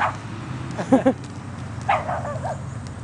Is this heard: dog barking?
yes